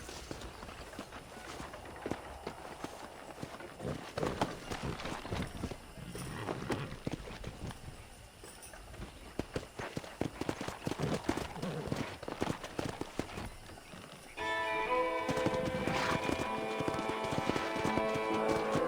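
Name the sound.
horses galloping, from a video game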